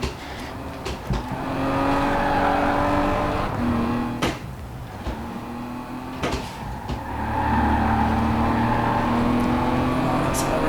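K74 Rivals A Class race car (Falcon Indy) accelerating hard in a racing game, a sustained engine tone climbing in pitch with gear changes, loud and close, with talking over it.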